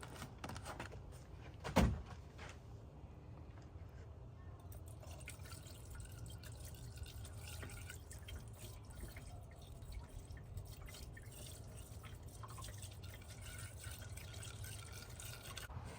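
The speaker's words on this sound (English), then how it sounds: "We're adding RainX Platinum windshield wiper wash. So we're gonna use a little funnel right here." RainX Platinum windshield washer fluid poured through a small funnel into the reservoir of a 2010-2013 Acura ZDX, heard as a faint, steady trickle after a single sharp knock.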